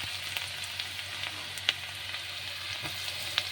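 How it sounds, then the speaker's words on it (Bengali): Chopped garlic sizzles in a small amount of oil in a pan, a soft steady frying hiss with occasional faint pops and crackles, alone and quiet. "আর এখানে তেল, অল্প তেলের মধ্যে এবার রসুনগুলো দিয়ে দেবো"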